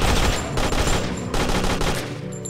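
Continuous heavy gunfire in the zombie shooter game Zombies in City, loud and dense automatic shooting throughout with slight surges, no voices over it.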